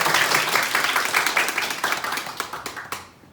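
Applause from the audience at an admissions consulting seminar, a smallish group clapping with distinct individual claps audible, fading and thinning out toward the end.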